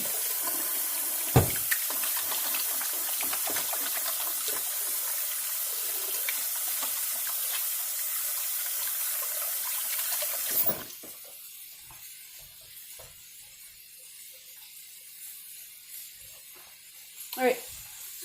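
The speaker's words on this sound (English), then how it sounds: "I'll wash up my hands." A kitchen tap runs steadily while hands are washed under it during lamb fajita prep, a continuous close hiss that cuts off abruptly partway through, leaving a quiet room with a few small knocks.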